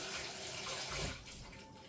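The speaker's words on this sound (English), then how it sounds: "I just want to wash my hands" Hands being washed under a running tap, with a loud, close rush of water that holds steady, then thins and softens as the flow shifts in the final second.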